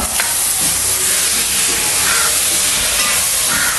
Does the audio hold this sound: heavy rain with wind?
no